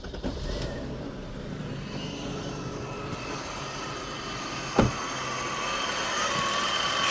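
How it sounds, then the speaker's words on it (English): A BMW E34 535i with a Metric Mechanic M30B37 stroker engine and an intake leak idles smoothly nearby, a steady low rumble with a brief sharp knock partway through. "It is a really smooth M30. It sounds really good. But you can see, you can't really rev it."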